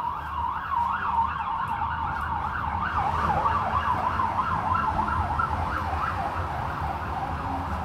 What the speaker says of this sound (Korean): 소리만 듣고 119 그 앰뷸런스가 아니고 소방차라는 걸 알았잖아